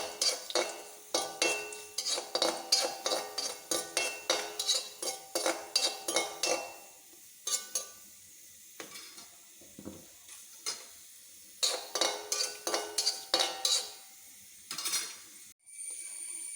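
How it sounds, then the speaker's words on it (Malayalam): Sesame seeds fry in ghee for rambutan payasam while a spoon stirs the pan in quick, regular clinking strokes, broken by short pauses over a faint sizzle. "ആ നെയ്ക്കകത്തേക്ക് കുറച്ച് എള്ളിടാം"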